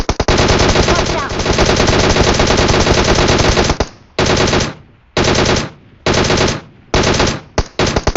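Loud, close automatic gunfire in the mobile shooter PUBG Mobile on the Erangel map, a long sustained burst followed by several shorter rapid bursts separated by brief pauses.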